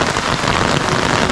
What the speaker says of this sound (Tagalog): Lumalakas na naman ang ulan mga tropa.